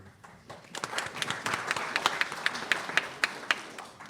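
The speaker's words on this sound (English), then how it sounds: "Can we give them another round of applause for them?" A crowd applauds steadily, a dense patter of many hands clapping with a few sharper, louder claps standing out near the front.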